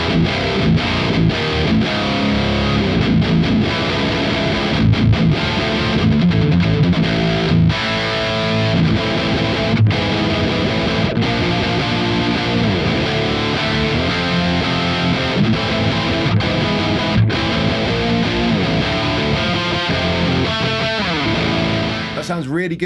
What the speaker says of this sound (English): let's try out the distortion channel